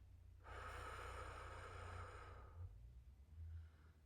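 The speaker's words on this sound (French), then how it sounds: "et à souffler doucement par la bouche." A slow, breathy exhale through the mouth during a guided meditation, one long airy breath lasting about two seconds, close and soft, followed by quiet.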